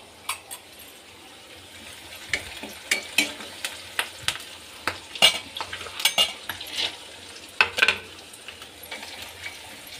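Peanuts, green chili, onion, curry leaves and mustard seeds roast in a hot pan with a steady low sizzle, broken by frequent sharp clinks and scrapes of a spoon stirring against the metal.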